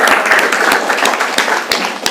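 A classroom of students claps together in a brief burst of applause, many quick overlapping hand claps at close range, steady and fairly loud.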